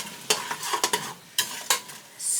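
Utensil stirring tuna and noodles with canned cream of mushroom soup in a pan on medium heat, giving several scraping strokes over a soft steady sizzle, close by with no talk.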